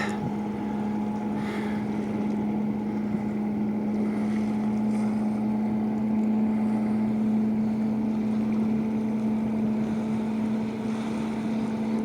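A motorboat engine drones steadily on a river near Yakutsk river port, a constant humming tone holding at the same level, with wind noise in the background.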